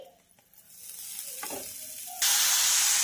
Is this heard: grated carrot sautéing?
yes